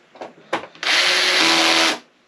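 A cordless power drill whirs in one sustained burst of about a second as it drives a screw into an arcade cabinet, preceded by a couple of short handling knocks.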